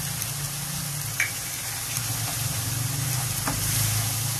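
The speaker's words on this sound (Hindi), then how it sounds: "और जो मैंने ये काली मिर्च पाउडर और अपना मीट मसाला लिया था ये भी ऐड कर देंगे और इसे भून लेंगे" Black pepper powder and meat masala fry in a hot pan as the base of an egg curry cooks. A steady close sizzle and hiss continues throughout, with a few faint stirring knocks.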